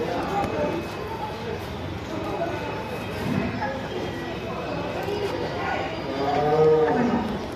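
Large cows moo at the Mayapur ISKCON goshala, low drawn-out calls mixed with barn noise while people talk nearby.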